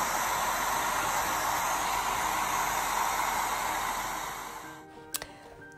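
A hair dryer blows continuously on a wet painted rock, a steady close broadband whoosh that fades out near the end, followed by a couple of faint clicks.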